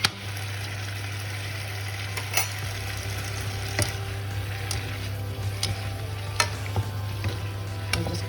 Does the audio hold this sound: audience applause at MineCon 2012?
no